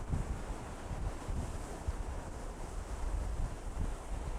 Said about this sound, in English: The waves keep crashing into it, building it even higher.